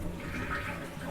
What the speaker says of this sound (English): and flushes the toilet.